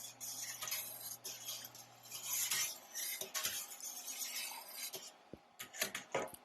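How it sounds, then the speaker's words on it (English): Utensil stirring milk in a pot during mozzarella making after citric acid is added, with repeated scraping and clinking against the pot, fairly close and steady, no talking. "Give it a quick stir."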